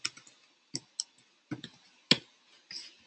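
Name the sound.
typing on a computer keyboard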